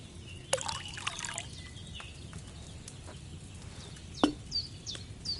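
Water trickles and pours from a pitcher into a cauldron in Kingdom Come: Deliverance II, a soft splashing stream over the first seconds followed by a few faint clinks and a brief louder splash near the end, with no speech.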